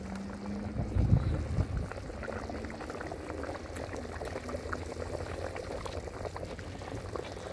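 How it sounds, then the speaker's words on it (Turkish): Meat stew with ribs and tomato paste bubbling in a black pot over an open fire, a steady close burble of boiling liquid with a louder splash near the start. "Kaynıyor fıkır fıkır bak."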